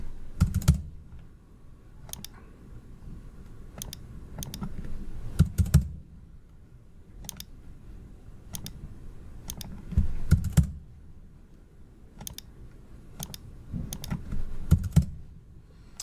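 Typing on a computer keyboard while entering measurement values in 3D modeling software, with short bursts of keystrokes and firmer presses like an enter key, close and fairly quiet, spaced by pauses, no talking.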